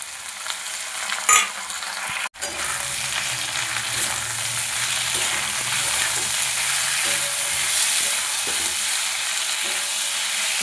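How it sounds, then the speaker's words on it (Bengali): Ginger garlic paste frying in a pan for a Bengali cauliflower curry, giving a steady close sizzle with scraping stir strokes and one sharp knock early on; no voices. "এবার এর মধ্যে দিয়ে দেবো আদা রসুনের পেস্ট।"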